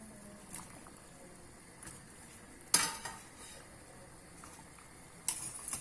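Bitter gourd pieces drop into a pot of boiling water, making two sharp splashy clunks over a faint, steady bubbling hiss of the simmering pot.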